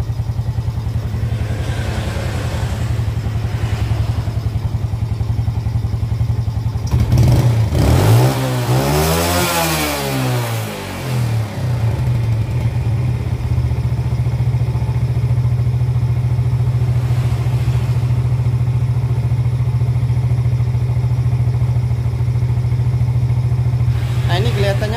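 A Yamaha Jupiter Z motorcycle with weak power and a stalling idle runs close by, idling steadily, then revving up and dropping back in one burst before returning to a lumpy idle.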